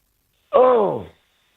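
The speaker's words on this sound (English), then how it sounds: "that was a yawn" A single drawn-out yawn, a voiced groaning breath that rises and falls over about half a second.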